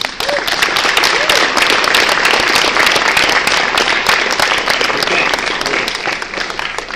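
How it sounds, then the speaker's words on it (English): Audience applause and cheering for a troupe of actors after an arts performance, a dense, steady wash of clapping at close range that carries on throughout, with some voices mixed into the crowd noise. "Let's have another nice hand for our troop today."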